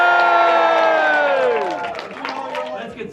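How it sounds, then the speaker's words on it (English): At a Mackinac City Logging Camp lumberjack show, a crowd lets out a loud, sustained cheer with voices gliding downward together, then fading into scattered shouts and clapping. "You folks are cheering for the Mackinac City Logging Camp"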